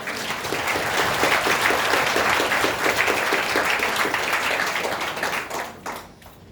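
Audience at an indoor marketing seminar applauding, a thick steady clatter of many hands clapping that holds for several seconds and then tapers off with a few last claps.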